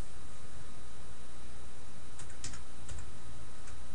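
Computer keyboard typing as a phone number is entered in office phone software, a short burst of soft clicking keystrokes over steady background hiss with no talking.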